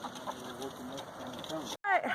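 Easter egger chickens clucking close by in a coop, a busy run of soft overlapping clucks and short calls, then a brief gap followed by a louder squawking call.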